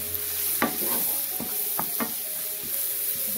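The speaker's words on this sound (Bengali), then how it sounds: "আবারও মশলাটাকে কষিয়ে নিচ্ছি।" Turmeric, red chilli and curry powder fry in a pan while a utensil stirs them, a soft steady sizzle broken by several sharp scraping strokes.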